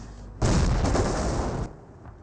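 Mortar fire and explosions in the World War II strategy game Company of Heroes: a loud burst of booming, crackling blasts that lasts about a second, then drops back to a quieter battlefield rumble.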